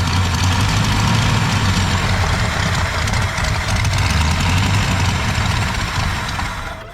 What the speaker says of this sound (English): All right, y'all, we got it to idle.